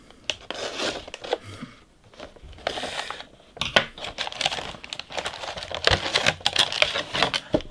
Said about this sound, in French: Je crois que je vais exploser le blister